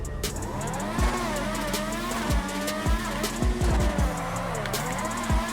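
A Progen PR4 oversteers in GTA Online, its engine revving in rising and falling sweeps while the tires squeal, with sharp gear-shift drops and brief skids repeating throughout.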